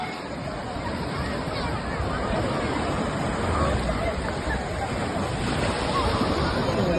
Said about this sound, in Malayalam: തിരമാല വരുന്നുണ്ട്, നമുക്ക് നോക്കാം.